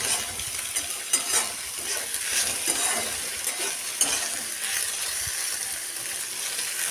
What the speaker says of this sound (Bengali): ডিমটাকে খুব ভালো করে ভেজে নিয়ে সাইডে রেখে দিতে হবে।